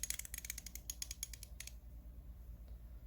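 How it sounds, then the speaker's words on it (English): A 90-tooth ratchet clicking in quick, fine bursts up close for about a second and a half, then going quiet with faint room noise. "These are 90-tooth ratchets. But just listen to that."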